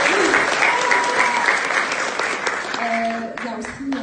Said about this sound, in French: donc on l'applaudit s'il vous plaît